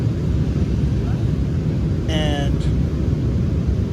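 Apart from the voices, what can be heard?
airplane cabin noise while descending and banking to land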